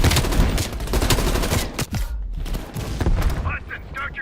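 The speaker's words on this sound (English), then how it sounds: "Heavy MG on the ridge." Heavy machine gun fire from a ridge in the Call of Duty Black Ops Cold War campaign, loud sustained bursts that thin out midway and pick up again with scattered shots and rumbling impacts.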